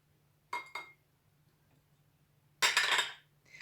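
Two quick clinks of chopped ginger dropping against glass, then a louder rattling clatter in a glass jar after a pause.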